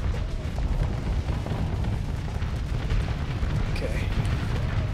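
Missile blast in the space combat game Starsector, part of a dense wash of booming explosions and weapon fire that runs steadily throughout, with a voice talking over the battle.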